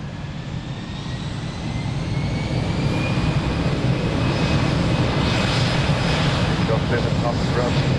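A jet airliner takes off at Lisbon Airport, its engine roar building steadily and staying loud and sustained throughout, with a faint whine on top.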